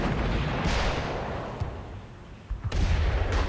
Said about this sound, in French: des coups de canon tonnent